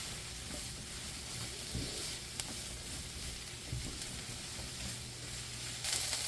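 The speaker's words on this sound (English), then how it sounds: "We're going to saute that for a little bit so they start softening up." Eggplant, squash and red pepper flakes sautéing in a skillet, giving a low continuous sizzle with occasional soft stirring knocks, steady throughout and slightly louder at the very end.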